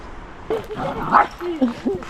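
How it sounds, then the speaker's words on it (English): Several dogs out on a walk bark, yip and whimper in short excited bursts, close by and fairly loud, mixed with a person talking over them. "Quite a few dogs appearing now, which is making Chester a bit feisty."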